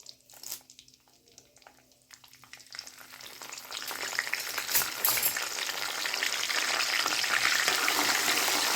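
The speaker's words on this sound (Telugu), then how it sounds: "ఇవన్నీ వేసుకొని తాలింపు చక్కగా వేయించుకోవాలి." Tempering spices (mustard seeds, cumin, urad dal, chana dal, dried red chillies, curry leaves) crackle and sizzle in hot oil, starting quietly with a few pops and building into a dense, steady frying hiss by the end.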